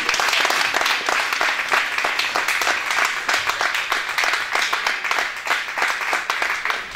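Sustained audience applause follows a talk on uterine fibroids at a church event: many hands clapping steadily and close, a dense rolling patter lasting the whole stretch with no speech over it.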